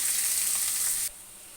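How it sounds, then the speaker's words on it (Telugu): Onions frying in oil in a kadai on a stove, a loud steady sizzle that drops sharply to a quieter hiss about two-thirds through. "ఆయిల్ వేస్తున్నాం ఆయిల్ కలిపింది ఉల్లిపాయలు వేసేస్తాను"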